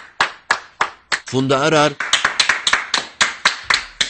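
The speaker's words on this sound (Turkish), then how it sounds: "Ünlüler de sağlık çalışanlarının çabasına alkışlarla teşekkür etti." Celebrities clap by hand to thank health workers during the coronavirus outbreak. The claps come as a series of sharp, close bursts in a steady rhythm, and a short spoken phrase falls in the middle.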